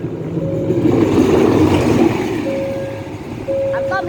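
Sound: Thai train 726 departing Kanchanaburi station

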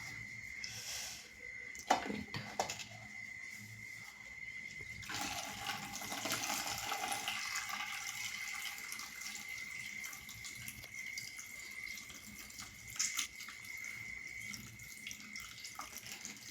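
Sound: water draining from paneer

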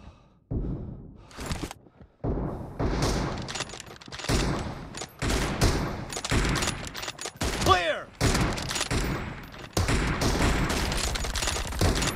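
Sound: gunfire in a video game

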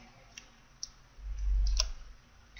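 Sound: computer mouse clicking

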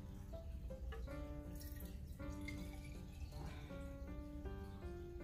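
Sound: water poured into a glass jar vase

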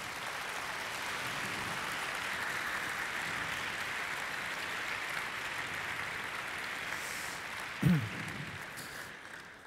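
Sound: audience applause at a conference

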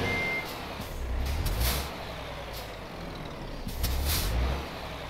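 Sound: truck stuck in mud in video game Euro Truck Simulator 2

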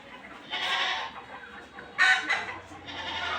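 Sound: chickens and rooster crowing on a farm

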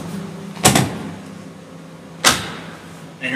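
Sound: Chrysler Town & Country Stow 'n Go seat latching into place

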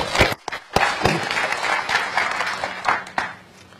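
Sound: audience applause for the staff

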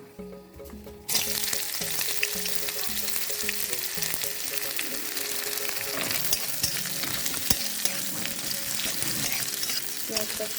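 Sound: onion frying in a pan

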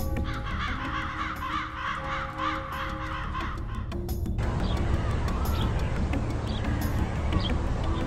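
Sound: crow cawing

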